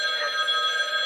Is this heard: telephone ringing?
yes